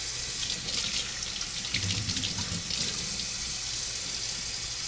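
A cleaned bluegill rinsed under running water, a steady close splashing rush from a tap with the stream breaking unevenly against the fish, continuous and alone.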